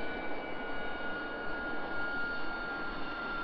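An RAF Harrier jet's engine runs steadily at a distance, a continuous roaring whine with a high tonal edge and no pauses.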